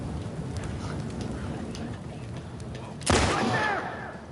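A sudden burst of gunfire and banging in The Last of Us Part II cuts through a steady rain-like background, arriving sharply about three seconds in and staying loud and dense.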